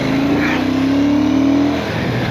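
Royal Enfield Bullet 650 motorcycle engine revving up and holding a steady, rising drone for about two seconds before easing off, loud and close.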